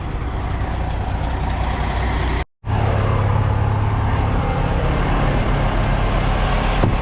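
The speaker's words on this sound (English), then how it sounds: "I can still move my truck this way" A truck hitching a 2018 Fontaine 60-ton RGN trailer gives a loud, steady engine drone near at hand, broken by a brief cutout midway, with no talk.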